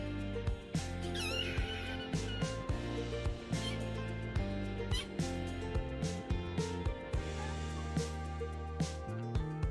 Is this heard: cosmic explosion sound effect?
no